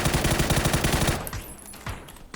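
A rapid burst of automatic gunfire rattles loudly for about a second, then a few scattered single shots ring out more sparsely.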